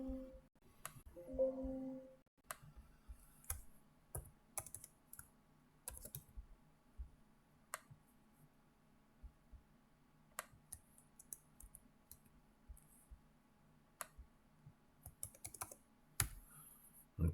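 Sparse, quiet key presses on a calculator keypad, scattered irregular clicks spread across the stretch with soft background hum and no talking.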